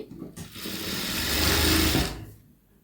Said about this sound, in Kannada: ಈ ರೀತಿ ನೀಟಾಗಿ ಸ್ಟಿಚ್ ಹಾಕಿ.